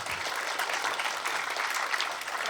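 Audience applause for a panel of authors at a book event, a dense, steady wash of clapping that holds at an even level throughout without any voices over it.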